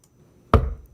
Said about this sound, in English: It's a door,